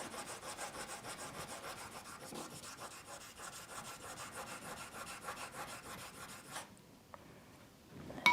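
Enamel being sanded with 600 grit paper gives a fast, even back-and-forth rasping, close and fairly quiet, for most of the stretch before it stops abruptly near the end.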